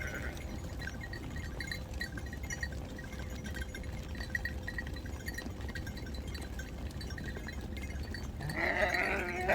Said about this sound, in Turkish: Koyun sürüleri geldi.